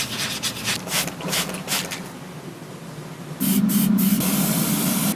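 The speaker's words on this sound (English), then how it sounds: "so now I'll spray with primer." An aerosol can of lacquer-based primer hisses onto a resin figure in several short bursts, then in one longer continuous spray, loud and close, with no talking.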